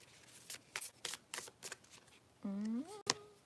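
Tarot cards being shuffled in a quiet indoor spot, a handful of crisp riffling bursts spaced out over a few seconds, followed by a soft tonal hum and one sharp click near the end.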